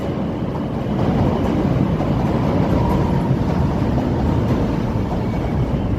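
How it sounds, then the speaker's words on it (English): Chicago CTA Green Line elevated train passing on the Loop near Wabash, a loud, steady rumble of rail cars close by that holds throughout with no talk. "There's Chicago CTA green line heading around the loop"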